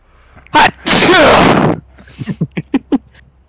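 A single loud, close sneeze with a sharp breath-in and burst, followed by a quick series of short, evenly spaced clicks or taps fading out.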